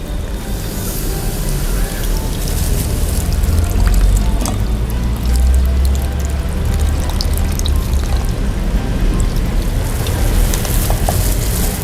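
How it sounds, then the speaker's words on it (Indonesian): Steady, loud splashing as 500 ml of water is poured into a cooking pot with pandan leaves, a continuous close rushing wash lasting several seconds. "Baru 500 ml air kita masukkan."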